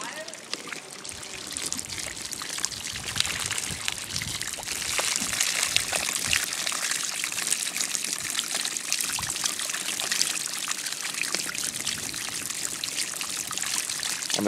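Water pours nonstop from an uncontrolled outflow into the earth, a dense, steady splashing and trickling rush that stays loud and close throughout, with someone talking over it.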